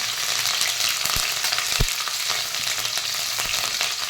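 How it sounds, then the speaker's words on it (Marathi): Green chilies frying in hot oil in a pan for sabudana khichdi, a steady close sizzle with a few sharper pops and spits throughout. "मी याच्यात आता तेल गरम झाले आपलं, त्याच्यात आपण मिरच्या टाकूया"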